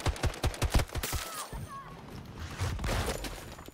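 An RM68 rifle fires a rapid burst of evenly spaced shots in a video game, loud and punchy for about a second, then gives way to quieter battlefield rumble and distant clatter.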